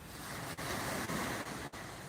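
Ocean waves at a beach near home make a loud, continuous rushing wash close to the microphone, broken by a few brief dips, with wind-like roar and no talking.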